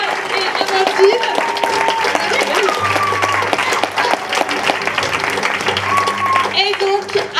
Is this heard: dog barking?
no